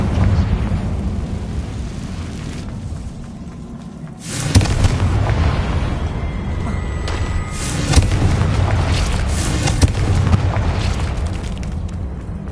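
Confringo fire spells explode in a wizard video game, with several heavy booming blasts bursting over a steady rumbling background of game sound.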